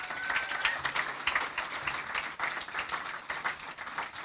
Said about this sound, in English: Please give a round warm of applause for all the 10 startups.